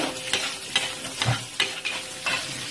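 Onion, garlic and ginger sauté in a pan for a chicken wing curry, a soft sizzle running under four or five distinct scrapes of a utensil being stirred through the pan.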